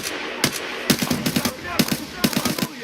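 AK rifle fire in a first-person shooter video game: several sharp bursts of rapid shots with short gaps between them, loud and close.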